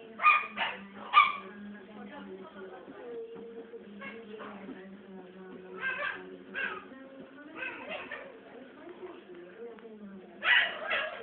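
A dog barks and yips in short clustered bursts, a few at the start and more around the middle and end, fairly close, with people talking throughout.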